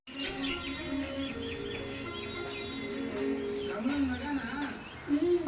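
A flock of birds chirps continuously in the evening, with rapid overlapping tweets and a few cooing notes, fairly close and steady.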